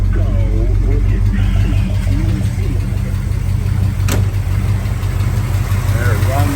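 A 1971 GMC 1500 pickup truck's engine runs at a steady idle with a low, continuous rumble, close up, while people talk over it.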